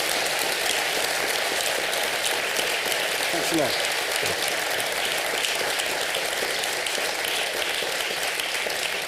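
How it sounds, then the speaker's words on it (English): An audience at a panel discussion gives the panelists sustained, dense applause that fills the room, while a brief spoken thanks rises over the clapping. "Please, everyone, give a round of applause to our fantastic panelists."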